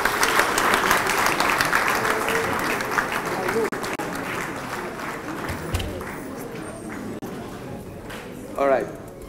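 Audience applause at an agriculture youth gathering fills the opening seconds and gradually thins out, giving way to a voice speaking near the end.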